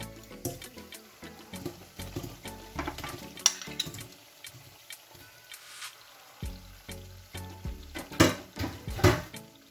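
Crab hits hot, well-cooked spice masala in a pan on high heat and crackles loudly, with uneven bursts of sizzling and clattering stirring against the pan.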